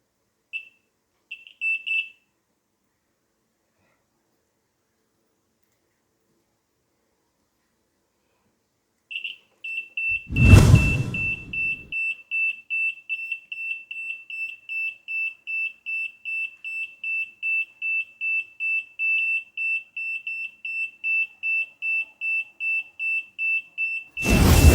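A shrill electronic buzzer, a DIY backup horn driven by a blinking LED on a 6-volt supply, beeps in a rapid, steady series of short pulses, loud and close, after a few brief chirps and a low thump.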